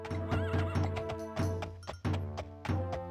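A horse in the video game Daggerfall neighs in a loud, close whinny with trembling pitch, and clip-clop hoofbeats patter rhythmically underneath, with no voices.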